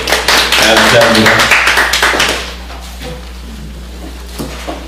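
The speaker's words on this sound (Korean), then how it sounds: "와, 박수도 쳐주시고 감사합니다." An audience claps after a Buddhist dharma talk on the Buddhist worldview. The applause is dense and close for about two seconds, then fades while someone speaks over it.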